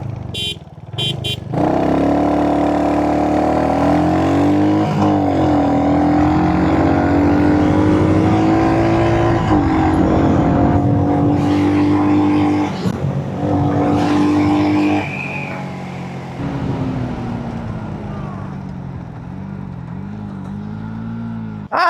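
Yamaha MT15 and Royal Enfield Hunter 350 motorcycles in a drag race, engines loud and close, revving and holding a steady rising drone with a shift near the middle and a brief drop toward the end.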